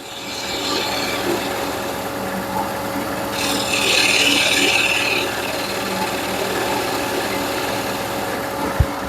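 A lathe spins as a tool tapers the edge of a turned wood piece, giving a continuous close scraping and rasping hum that grows sharper midway, with a brief knock near the end.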